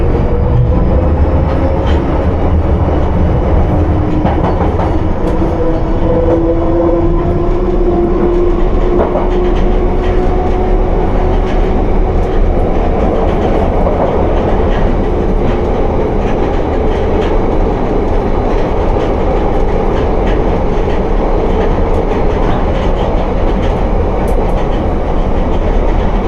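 A London Underground Piccadilly Line train running at night, with a sustained loud rumble of wheels on track, rhythmic clatter over rail joints and faint rising motor tones as it moves through the tunnel.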